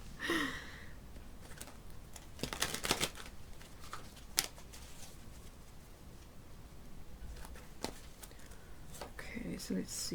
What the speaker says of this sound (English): Oh, I don't seem to be able to shuffle today.